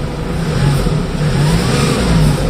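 A Kia Bongo 3 engine revs steadily, a loud continuous mid-pitched drone with slight rises in pitch, heard close and alone.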